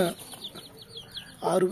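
One-week-old chicks offered for sale peep in a quick series of faint, high chirps. Louder, close handling noises come at the start and end.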